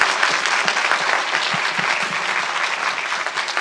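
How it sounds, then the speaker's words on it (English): An audience at a fireside chat event gives a sustained round of applause for speaker Stephen Satterfield, dense clapping steady throughout with no voices over it. "Can we all just give Stephen one more round of applause for that incredible talk?"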